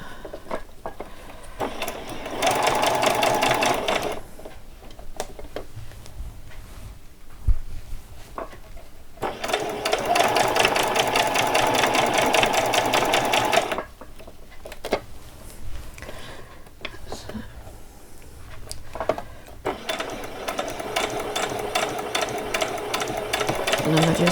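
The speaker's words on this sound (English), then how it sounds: "I'm just doing a little back stitch there" A sewing machine backstitches fabric while an old dress is upcycled, running in three sustained bursts of close, steady mechanical whirring with quieter pauses in between.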